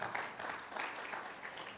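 Applause from a church congregation at a Sunday worship service, a steady wash of many hands clapping that holds evenly loud throughout.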